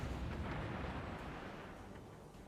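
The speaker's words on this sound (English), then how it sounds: "He's just trading open fire with Megazal." Warship naval gunfire in the video game World of Warships rumbles as a low, distant, continuous booming roar of artillery salvos, faint overall and slowly fading.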